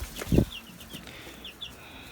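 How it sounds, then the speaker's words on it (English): Lavender Orpington cockerel on a farm giving a single low cluck up close, followed by quiet background with faint chirps from other birds. "He's the cockerel. Lavender Orpington cockerel."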